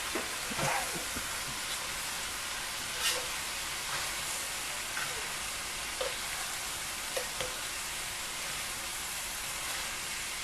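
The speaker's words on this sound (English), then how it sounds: "Now, give it a little bit more stir." Leek stir-frying in a pan for a quick dinner, giving a steady, close sizzle and hiss with a few soft stirring scrapes and clicks scattered through, no talk over it.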